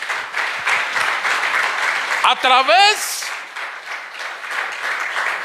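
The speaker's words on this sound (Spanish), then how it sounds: "Denle un aplauso al Señor." Congregation at a church service claps steadily and fairly loud, with a voice crying out briefly above the applause midway.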